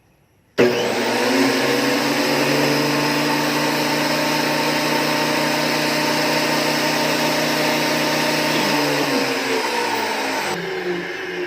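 A Makita 2012NB thickness planer starts with a sudden jump and then runs at a steady, loud, high-pitched mechanical whine with a strong motor hum. Near the end it drops in pitch and slows as it begins to wind down.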